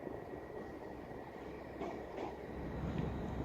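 A Class 350 electric train at Crewe station, heard as a steady low rumble of rolling wagons with a faint high tonal whine and slight rising noise toward the end.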